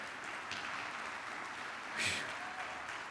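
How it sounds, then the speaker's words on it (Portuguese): A church congregation claps in praise during a sermon, a soft, steady patter of applause from a distant crowd, swelling briefly midway with a brief vocal burst before settling back. "Dá um aplauso para Ele"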